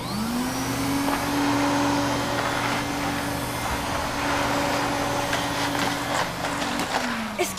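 A household vacuum cleaner runs steadily and fairly loud for several seconds, its motor whine holding a constant pitch with a brief dip near the end.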